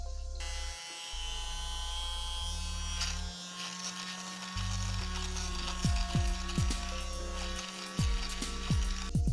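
Electric lint remover shaving pills off fabric, a buzzing motor whose pitch steps up and down as it presses and drags across the cloth, with short scraping sweeps near the end.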